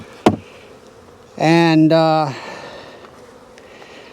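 Honey bees buzz loudly at an opened hive with a third medium brood box during a July Apiguard treatment inspection, a sharp knock followed by a close, rising drone lasting about a second, then faint background hum; a voice speaks briefly.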